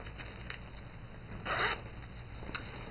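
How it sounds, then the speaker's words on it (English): A black zipper on a handbag's back pocket is pulled open, with small ticks followed by one longer zip rasp and a final short tug, close and quiet. "The back one has this black zipper."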